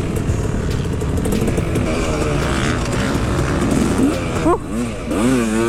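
A dirt bike ridden on a rutted, choppy dirt track: loud, close engine roar with rising and falling revs as the rider accelerates and shifts, a sharp rev surge near the end.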